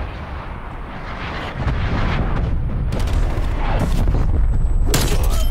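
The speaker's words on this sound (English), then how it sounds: "Artillery targeting detected. Artillery inbound." Incoming artillery strike in a first-person shooter video game: dense, continuous rumbling booms and blasts that swell louder partway through, with a few sharper bangs near the end.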